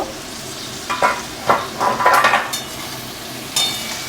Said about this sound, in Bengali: আলুটা ভাজা ভাজা হয়ে গেছে প্রায়, দেখুন আর একটু নাড়াচাড়া করলেই হয়ে যাবে